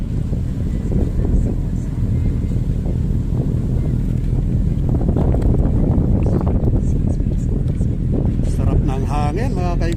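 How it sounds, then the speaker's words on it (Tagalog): Steady morning wind rushing outdoors at the Manila Bay reclamation site, a continuous low buffeting roar with some background voices and bird sounds mixed in. "Umagang-umaga na malamig yung simoy ng hangin."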